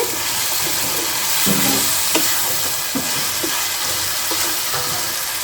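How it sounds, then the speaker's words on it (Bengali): Chicken meat being sautéed (kosha) in a pan for a Begumoti chicken dish gives off a steady, loud sizzle and fry that runs throughout, with occasional soft stirring scrapes and taps rising out of the hiss. "দুই তিন মিনিট হয়ে গেছে আমি মাংসটা একটু কষিয়েছি"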